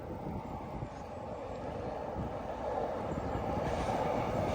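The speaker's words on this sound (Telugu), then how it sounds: "ట్రైన్ ఇప్పుడు లోపల నుంచి బయటకు వస్తుంది" A metro train rumbles steadily out of an underground tunnel in Seoul, South Korea, a continuous low roar that swells slightly louder toward the end with no talking.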